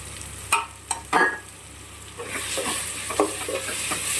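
A few sharp scrapes and clatters of a utensil, then a continuous oily sizzle with stirring strokes as a ground fennel spice paste fries in oil for cauliflower curry, close and fairly loud.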